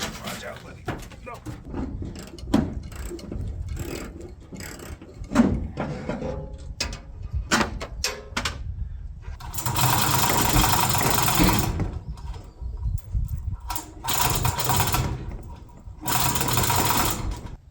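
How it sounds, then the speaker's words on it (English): A hand ratchet works loose bolts on a vehicle abandoned for ten years, giving bursts of rapid mechanical clicking, loudest and most sustained toward the end, between scattered clunks and people talking nearby. "Go get me a ratchet."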